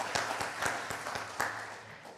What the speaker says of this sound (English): Yes, clap for them.